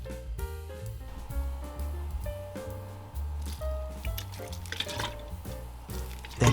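Sauce pours and splashes into a hotpot with a wet, squishy gurgle, backed by steady background music.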